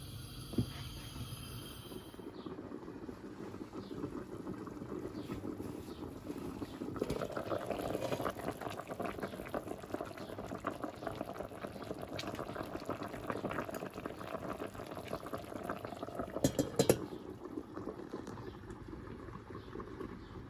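A low, steady bubbling of stuffed dried eggplant dolma with ribs simmering in a covered pot, faint and continuous, with a few soft clinks toward the end.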